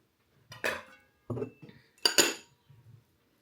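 A spoon clinking against a bowl while cornflour batter is mixed with a little oil, a few separate sharp metallic knocks and scrapes with quiet gaps between them.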